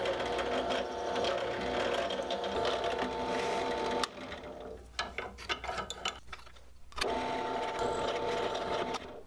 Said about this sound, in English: Now I'm going to drill a corresponding hole on each of the plates